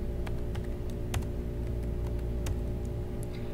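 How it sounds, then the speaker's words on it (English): Someone types a username and password on a computer keyboard, with scattered key clicks at an uneven rhythm over a steady low room hum, close and moderately loud. "in this window you will type in your username and your password"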